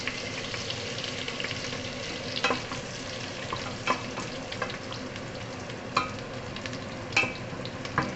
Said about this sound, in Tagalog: Fried onions. Garlic and onions.